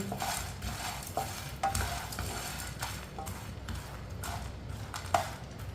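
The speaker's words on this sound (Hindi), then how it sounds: "मीडियम आंच पे इसे अच्छी तरह गर्म करना है चनों को" Chickpeas are stirred and heated with a spoon in a pan over a medium flame, giving a continuous scraping and rustling texture with a soft sizzle and a few brief clinks, and no talking.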